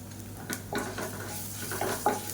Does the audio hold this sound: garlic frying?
yes